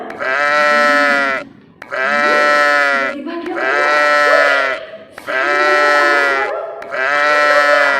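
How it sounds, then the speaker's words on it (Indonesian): Sheep bleat loudly and repeatedly in five long, wavering cries close by, with a brief spoken word between them. "Iya, suara domba."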